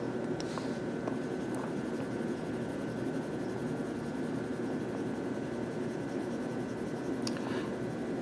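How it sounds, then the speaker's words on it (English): An eraser rubbing across a board in a math lecture room, a continuous broad swishing scrub that holds steady throughout, with a couple of faint knocks near the start and end. "now I'm going to erase it"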